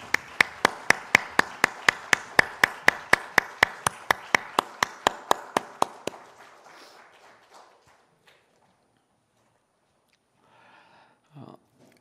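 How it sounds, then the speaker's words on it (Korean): A church congregation claps in unison during a Sunday worship service, about two dozen sharp, evenly spaced claps over six seconds that stop abruptly, followed by a quiet room with faint shuffling and a brief voice. "하나님께 영광의 박수 올려드리겠습니다."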